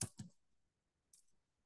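A computer keyboard being typed on while writing Java code: a couple of quick close keystrokes, a short pause, then one more soft tap, quiet and alone.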